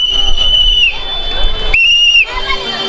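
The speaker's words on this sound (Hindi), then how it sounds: "अब सीटी बजाने से भी उनको ये संकेत प्राप्त हो जाता है कि हाँ हम आगे आगे चल रहे हैं।" Two long, shrill whistle blasts are blown to signal pilgrims through a dense crowd at Nidhivan, piercing and close, each held about a second, over constant crowd babble and murmuring voices.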